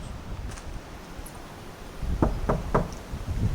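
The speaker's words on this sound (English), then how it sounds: "I'm going to knock 3 times" Three knocks on a door outdoors during a ghost hunt, evenly spaced and fairly loud against a steady hiss of wind and rustling, with faint faraway chirps.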